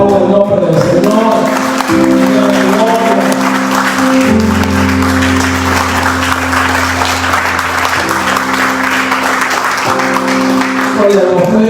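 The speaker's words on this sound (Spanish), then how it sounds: "Vamos a aplaudir el nombre del Señor." Church congregation applauding during a Spanish-language worship service, a sustained wash of clapping underneath loud, held organ or keyboard chords that shift in pitch throughout.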